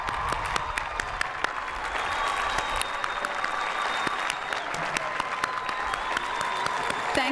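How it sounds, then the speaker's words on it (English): A commencement audience, with graduates turned toward their parents, breaks into steady applause, a dense continuous patter of many hands with occasional louder close claps, sustained throughout. "I think if you stood up and turned and faced your parents, they would love to see a round of applause"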